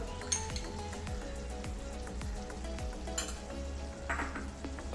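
A dollop of butter melting into a simmering pan of Old Delhi–style chicken changezi curry sizzles and crackles steadily, with a few light metallic clinks of a spoon against the pot.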